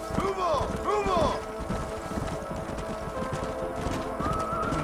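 Horses galloping in the Red Dead Redemption video game, hooves clip-clopping in a steady rhythm under game music, with a horse's whinny near the start and a voice talking over it.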